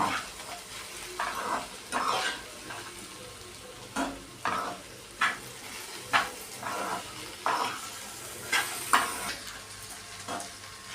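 Onion, ginger and garlic masala sizzles in a pan, a steady frying hiss broken by repeated stirring scrapes of a utensil against the metal, close and unaccompanied by voices.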